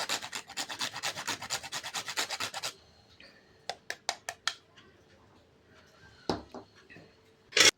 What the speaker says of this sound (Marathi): आणि जायफळ थोडं किसून घ्यायचं.